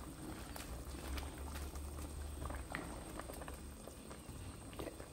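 Fish soup with tofu and malunggay simmering in a pot, a faint steady bubbling with soft irregular pops and patter throughout, close and quiet with no talking.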